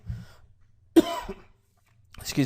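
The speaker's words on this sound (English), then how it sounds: "for coughing in your ear" A close, sharp cough breaks out after a faint murmur, followed by a short pause and the start of another throaty burst.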